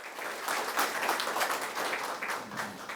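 Applause from an audience at the 16th Im Jong-guk Award ceremony, a moderate, fairly distant wash of clapping that swells and ebbs slightly throughout.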